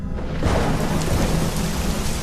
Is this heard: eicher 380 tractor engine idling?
no